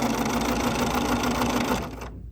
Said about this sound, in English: we're going to sew this area right here. So we're going to sew that together